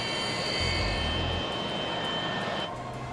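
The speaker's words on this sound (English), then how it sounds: "8509 is preparing to take off to Milan, Italy. The aircraft was a Boeing 747 freighter." A Boeing 747 freighter readying for takeoff at Stansted Airport, heard as a loud, steady jet-engine roar with a whining high tone, holding constant with a brief low rumble swell early on.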